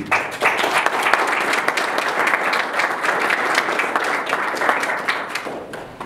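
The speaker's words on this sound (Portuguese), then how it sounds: "Vamos aplaudir Renato Parente" Audience applause at a business workshop on ambient music, a crowd clapping steadily and fairly close for about six seconds, unbroken by speech.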